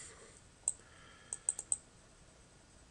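A computer mouse gives several faint, sharp clicks, scattered irregularly in short bursts against a quiet room background.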